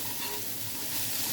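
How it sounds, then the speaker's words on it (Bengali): Potato and onion pieces fry in a pan with salt and turmeric, giving a continuous close sizzle and crackle with a faint hiss, steady and alone without any talking. "আমরা আলু পেঁয়াজ আরও কিছুক্ষণ ভেজে নিব।"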